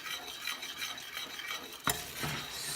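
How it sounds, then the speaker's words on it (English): Someone whisks an orange butter sauce for scallops in a pan over medium heat. A whisk scrapes and swishes rhythmically against the metal, and one sharper clink of metal sounds near the end. "I'm going to continue to whisk, checking the temperature or the heat there."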